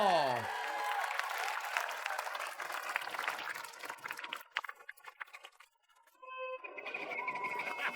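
A burst of applause and cheering from a comedy show audience, fading out before a brief pause, then music and crowd noise returning.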